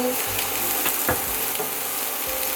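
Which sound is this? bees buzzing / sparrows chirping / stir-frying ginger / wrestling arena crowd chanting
stir-frying ginger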